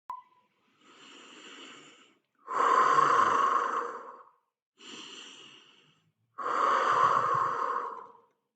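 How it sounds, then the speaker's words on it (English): Slow, deep breaths close to the microphone: two long inhales each followed by a heavier, louder exhale, with quiet pauses between. "take this breathing, take it in, and then let go"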